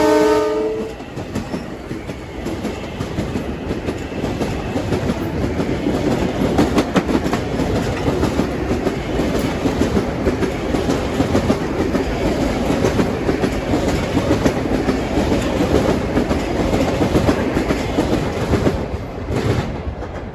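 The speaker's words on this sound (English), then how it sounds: "Here comes train 2350 from New York to Farmingdale." A Long Island Rail Road commuter train, number 2350 from New York to Farmingdale, pulls into Mineola station at evening rush hour. A short horn blast opens, then a steady rumble of wheels and clickety-clack continues throughout, with no talking.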